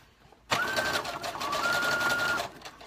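A sewing machine starts abruptly and stitches elastic in one steady, close run of about two seconds, with a faint whine riding over the motor, then stops.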